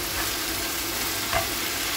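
Jute leaves, salted and seasoned with turmeric, are stirred in a hot frying pan, making a short burst of steady sizzling with a soft scrape of the spoon partway through.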